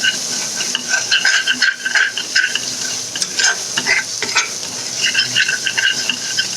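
Lobia curry gravy fries in a generous amount of oil as it is stirred, giving a close steady sizzle broken by repeated scraping and clattering of the spoon against the pan.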